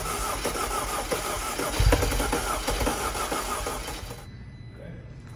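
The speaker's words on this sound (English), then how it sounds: "Yeah, just start it." Audi Q5 engine after a turbo upgrade cranking and catching, a rough mid-pitched churn that swells briefly then cuts off, with people talking nearby.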